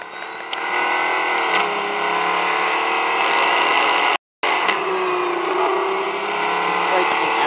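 Mustang engine in the mobile racing game Real Racing 3, a steady droning engine tone with shifting pitch running throughout, briefly cut out midway, with someone talking over it.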